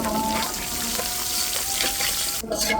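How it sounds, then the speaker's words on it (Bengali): Large cinnamon stick and whole cumin seeds hitting hot oil in a pan, a steady close sizzle with faint stirring, no talking. "এখন এই তেলের ভিতরে দিয়ে দিচ্ছি এই যে 1 টুকরো দারচিনি বড় সাইজের, দিয়ে দিচ্ছি গোটা জিরা"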